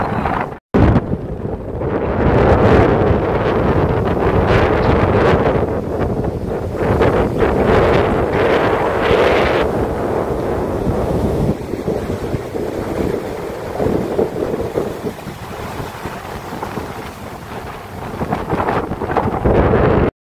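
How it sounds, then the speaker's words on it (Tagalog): Loud, roaring wind buffets the microphone in continuous gusts on a beach, a heavy rushing noise that eases slightly toward the end. "Ang lakas ang hangin."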